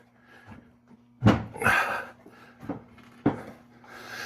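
Clamps are cranked down on a glued hardwood countertop: a few sharp wooden knocks and scraping rubs in separate bursts, close and fairly loud, over a faint steady hum, with no speech.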